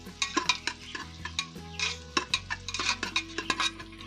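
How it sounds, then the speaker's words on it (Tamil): Onions sauté in a pan for fish biryani, spread out and stirred with a utensil, giving a busy run of quick scraping strokes and clinks over a soft sizzle, close and continuous. "இந்த மாதிரி நல்லா வெங்காயத்தை நல்லா பரவலாக ஊட்டினா சீக்கிரம் நல்லா வதங்கும்"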